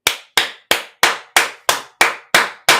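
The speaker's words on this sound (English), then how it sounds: "I got to clap for us because we doing it." Hands clap nine times in a steady, even rhythm, each clap sharp and close with nothing else between.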